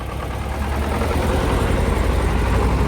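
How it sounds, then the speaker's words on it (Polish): Two-cylinder diesel engine of an old Chinese car running steadily nearby, a loud continuous low rumble with no voices. "To jest dwucylindrowy diesel, coś takiego."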